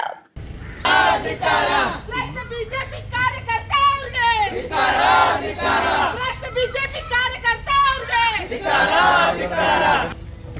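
Congress and BJP party workers chant slogans and cheers for their leaders outside a police station, a loud massed crowd of voices rising in repeated surging bursts throughout.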